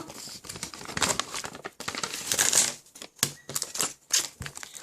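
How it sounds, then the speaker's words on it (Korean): A snack wrapper is torn open up close, giving several loud, crinkly, ripping bursts of plastic with short pauses between them and no talk. "이건 먹거리예요. 먹을 거. 뜯어드릴게요."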